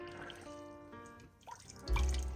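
A kitchen sponge being rinsed under running water at a sink, with steady trickling and dripping that swells into a louder splashing gush near the end.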